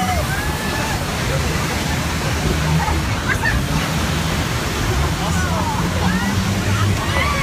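The Rhine Falls waterfall in Europe roars with a loud, continuous wash of rushing water close by, and faint crowd chatter and scattered voices are mixed into the noise.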